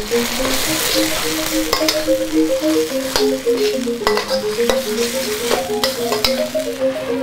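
Tomato stirred into a sizzling pan of sambal with prawns, a steady close hiss of frying with occasional scraping stirs, soft melodic music running underneath throughout.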